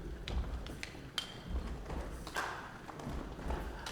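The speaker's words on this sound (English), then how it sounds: "Just stomp your foot on the ground as I do." Audience stomping their feet on the floor in rhythm at a gathering, soft low thuds repeating at an even pulse with a few sharper taps, fairly quiet and without voices.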